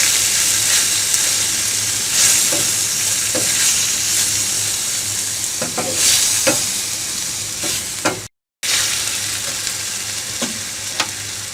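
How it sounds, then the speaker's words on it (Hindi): Continuous loud sizzling of chopped capsicum and tomato frying in a pan for a chicken half moon bread filling, with occasional scrapes of stirring and a brief dropout near the end. "शिमला मिर्च, दो से 3 मिनट तक पका लेंगे इसे।"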